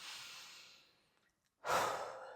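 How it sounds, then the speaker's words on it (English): A deep breath during a desk stretching break: a soft, fading exhale, a brief silence, then a strong, close inhale drawn audibly through the nose. "So now we're just going to take a big deep breath in through the nose"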